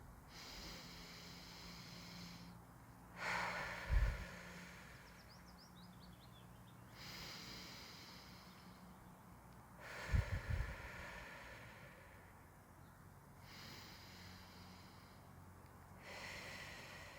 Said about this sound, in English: taking 3 deep breaths in through the nose and out through the mouth